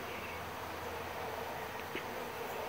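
Honey bees buzz continuously around an open feeder, a dense steady swarm hum with no breaks, fairly quiet and close.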